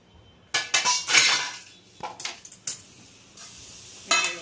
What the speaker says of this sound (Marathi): तोपर्यंत हे वाटण्यासाठी मी कढई टाकतो।